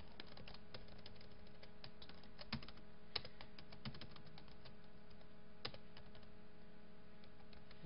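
Steady, quiet clatter of keys being typed on a computer keyboard while writing C++ code, continuous soft tapping with a few slightly louder strokes, no speech.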